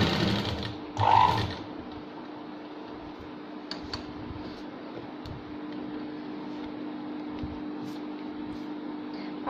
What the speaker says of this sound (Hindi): अब इसके अकॉर्डिंग हमें यहाँ पे सिलाई लगानी है इस तरह से।